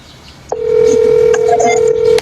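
A phone call goes out: a quick burst of touch-tone dialing beeps, then a loud, steady ringback tone holds for well over a second before cutting off, with a few faint beeps near the start.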